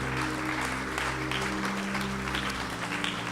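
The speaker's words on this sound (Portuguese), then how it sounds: "Forte aplauso no Senhor, aleluia" A church congregation applauds during a worship service, dense steady clapping over a sustained low musical drone from instruments.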